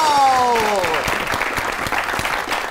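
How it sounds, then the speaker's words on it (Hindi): A television studio audience applauds to welcome a guest on a comedy talk show, dense clapping rising right after a descending musical sting and carrying on steadily to the end. "तो आपकी बहुत सी तालियों में प्लीज वेलकम"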